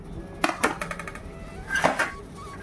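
Knife cutting ash gourd, okra, potato and cucumber in a home kitchen, making a handful of crisp chopping and scraping knocks close by, irregularly spaced, with faint background noise and no clear talk.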